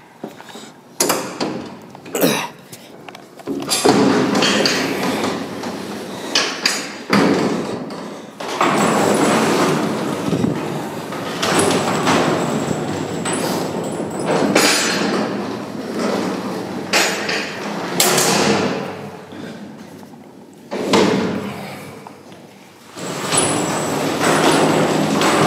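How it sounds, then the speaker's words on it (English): Manual opening of the doors on a Dover hydraulic freight elevator at a university technology center, with a run of loud metallic thuds, bangs and sliding scrapes in bursts over about twenty-five seconds, close by, with no talk. "Looks like we gotta open the doors manually here."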